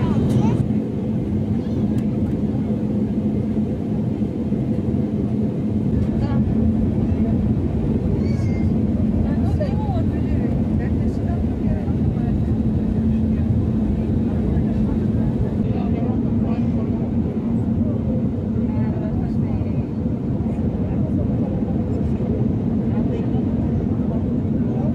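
Inside a passenger airliner cabin on descent toward landing, a loud, unbroken engine and airflow roar fills the whole stretch, with voices faintly audible under the steady drone.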